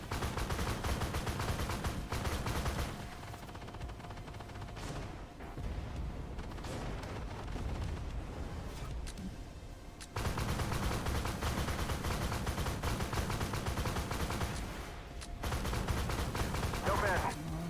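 Tank cannon fire and explosions in an Abrams AGDS battle video game, heavy booming blasts and rumbling gunfire repeating over a dense loud mix, with someone talking over it.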